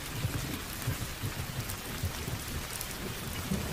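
Steady drizzling rain in a cartoon, a dense even patter that fills the whole stretch without pause, moderately quiet and close, with no voices.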